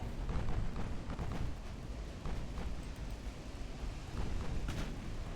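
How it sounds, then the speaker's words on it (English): Naval battle in the Ultimate Admiral Dreadnoughts game, with torpedoes launched and ships taking hits: a steady rumbling roar of distant gunfire and explosions, punctuated by several sharp thuds and bursts throughout. "Aggressive torpedo launch authorized. Torpedo away. Savannah has taken a hit, but she launched her torpedo."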